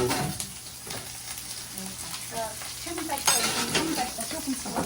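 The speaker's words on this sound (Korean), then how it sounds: "김치도 볶고 김치를 먼저 볶아요" Kimchi stir-frying in a hot pan for a monkfish (dochi) kimchi dish, a steady sizzle with scraping stirs and light utensil clicks against the pan, close and continuous with faint voices in the background.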